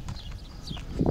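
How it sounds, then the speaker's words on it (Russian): Horse hooves clip-clop on a farm in a short, close burst of a few uneven steps, with a heavier thud near the end. "Лошадка он."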